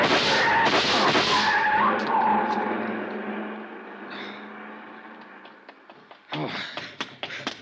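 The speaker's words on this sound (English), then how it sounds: "See the car, the one that just gunned out." Car speeding away in a radio drama alley scene after a robbery and shooting, heard as a loud skidding, roaring rush that fades into the distance, followed by a few sharp knocks and taps near the end.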